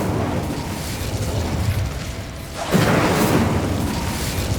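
A fiery Incendio spell from Hogwarts Legacy flares up in a roaring, crackling burst over a dense rumbling background, with a sharper surge of flame after a brief dip.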